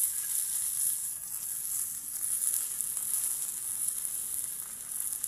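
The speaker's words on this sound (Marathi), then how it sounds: "एवढ्या भारी चिलाप्या आपल्या तळल्या गेलेल्या आहेत।" Chilapi fish shallow-frying in oil on a tava, a steady, bright sizzle holding at an even level throughout, close and with no talk.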